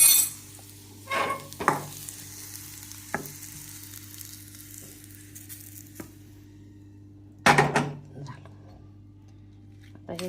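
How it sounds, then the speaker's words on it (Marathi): Bitter gourd roasting with jaggery in a pan: a low, steady sizzle broken by a few sharp bursts of stirring, with brief talk. "कारली चांगली खमंग भाजली गेल्या"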